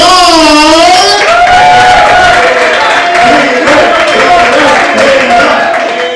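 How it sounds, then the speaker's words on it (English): An improv showcase audience keeps clapping and cheering as performers are brought up, loud whoops and shouted voices riding over steady applause that continues without a break. "Keep those rounds of applause going for Peter Goodall."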